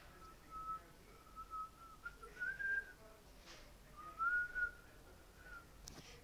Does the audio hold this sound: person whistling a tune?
yes